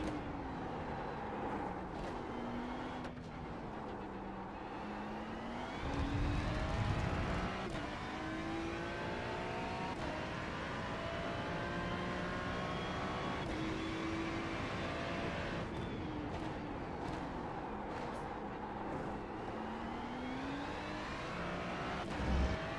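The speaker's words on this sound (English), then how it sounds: "We're going to full throttle it up this hill this time and see if what we got." A race car in a racing video game, prepping for the Spa 24 hours, accelerates at full throttle uphill, its engine loud and close, climbing through several gear changes with rising and falling pitch.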